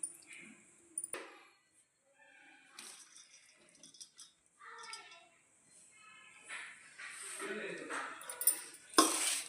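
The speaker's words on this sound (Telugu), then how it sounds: "బాగా కలుపుకుందాం." Rice porridge made from broken rice, with ghee added, is mixed in a pot with wet sloshing and scraping plus a few clinks of the spoon. The sounds are faint and intermittent, with speech partly over them.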